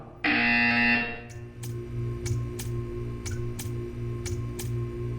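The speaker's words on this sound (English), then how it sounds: "When you hear the buzzer, stare at the art." A loud, sustained electronic buzzer sounds in a Portal 2 test chamber for under a second, then gives way to a steady series of crisp ticks over a low hum.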